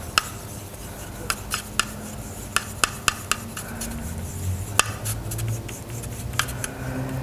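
Brush mixing purple and yellow paint on a palette, with repeated sharp taps and clicks of the brush against the surface over soft rubbing strokes, close and moderately quiet.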